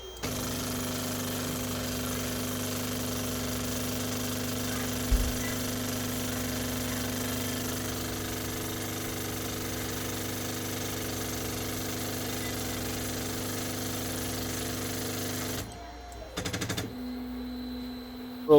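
Anycubic Chiron 3D printer with a faulty stepper switch rattling in a steady, fast mechanical buzz that runs continuously for about fifteen seconds, with one sharp knock partway through, before cutting out into brief quieter whirring.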